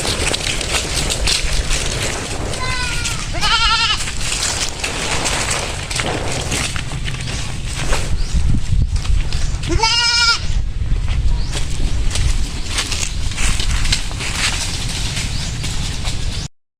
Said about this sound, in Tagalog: May paparating na naman na kambing.